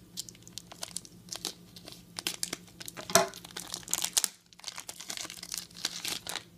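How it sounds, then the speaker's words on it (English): Scissors snip and crinkle through a tough plastic wrapper on a care package up close, with irregular crackling and tearing sounds and short pauses between cuts. "Go ahead and uh, use the scissors."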